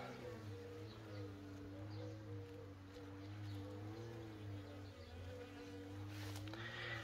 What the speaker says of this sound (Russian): Пчелка опыляет.